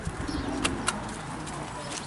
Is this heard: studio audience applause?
no